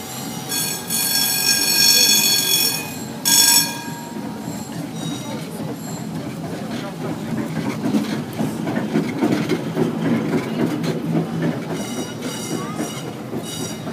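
Retro trams in a parade on Chistoprudny Boulevard, Moscow, rumble past nearby with clattering wheels and high metallic squeals, the rolling noise swelling and fading as the cars go by.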